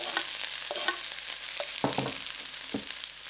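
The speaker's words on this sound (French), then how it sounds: "On fait chauffer une poêle, on va mettre l'huile d'olive et les échalotes qu'on va faire revenir 2-3 minutes" Shallots in olive oil sizzle gently in a hot pan, with several distinct scrapes and knocks of a utensil stirring them, close up and moderately loud.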